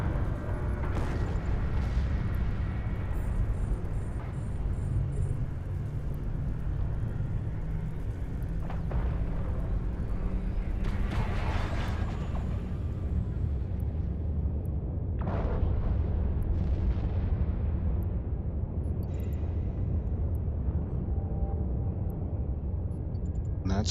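Spaceship turrets firing at enemies in EvE Online, a dense continuous rumble of weapon fire with several sharper bursts and booms standing out.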